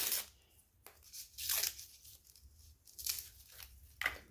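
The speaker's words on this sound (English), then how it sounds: "I'm trying to get a piece off" Stretch elastic is pulled and torn into thin string-like pieces, a few faint crisp ripping bursts separated by near-silence, close and quiet with no talking.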